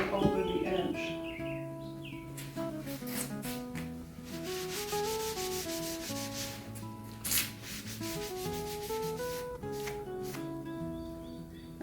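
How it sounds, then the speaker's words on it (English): A cloth lightly wipes wood stain along the band of a plywood pantry shelf, a soft steady rubbing with birds chirping in the background. "And I'm very lightly going to wipe the band"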